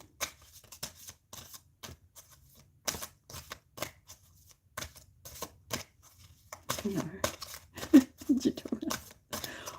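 Tarot cards are shuffled in quick bursts of crisp slaps and riffles, close by and fairly quiet, with a voice speaking softly near the end.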